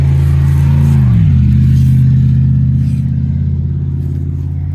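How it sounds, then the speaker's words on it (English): A vehicle motors past close by on a county road, its loud engine drone dropping in pitch as it goes by, then fading steadily as it pulls away, with no talk over it. "We are right beside a county road, and we get all kinds of vehicles coming by"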